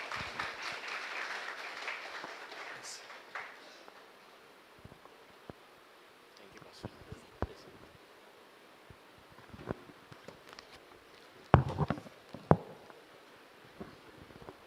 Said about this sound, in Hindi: आइए ताली बजाकर हम उनका स्वागत करें।